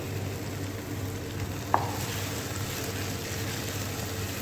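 Green paste dropped into frying tomatoes in a pan, a steady broad sizzle and hiss running throughout with one brief sharp clink partway through, no voices.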